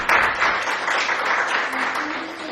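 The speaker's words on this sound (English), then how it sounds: "Please, let's all give a warm applause" An audience claps warmly after a lecture in a hall, a dense, moderately loud round of applause that holds steady, with a faint voice murmuring underneath near the end.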